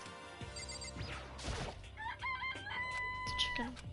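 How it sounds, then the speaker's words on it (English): A chicken in the video game Danganronpa gives a rooster-like crow and clucks, with bright chirpy game tones layered over it and no talk. "It's a chicken. It's really alive, right?"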